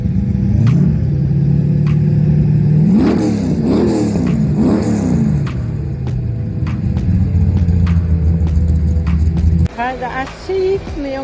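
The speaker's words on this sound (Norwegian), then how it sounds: "Elevene får lov å sette seg opp I lastebilen og fire nok" A truck engine at a roadshow revs up loud and close, rising and falling in several surges, then settles to a steady idle rumble while people talk faintly in the background.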